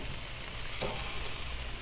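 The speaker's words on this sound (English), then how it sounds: "Flipping the brats." Bratwurst sizzles on a grill, a steady close crackling hiss with a brief scrape and flare as the brats are flipped.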